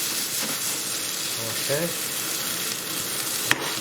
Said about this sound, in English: Let me give the onions and the chilies and that lot of stir.